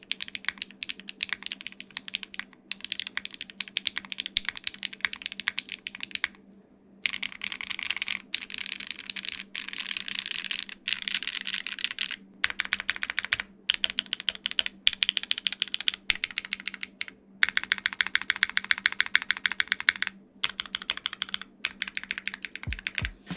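Rapid typing on a Haven65 mechanical keyboard with an aluminum plate and no foam, close and clear with crisp clacks, steady bursts and short pauses, plus a deeper spacebar thock, no voices.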